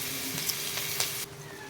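Onion and ginger-garlic paste fry in hot oil in a kadai, giving a steady, close, bright sizzle that holds evenly before dropping off sharply near the end.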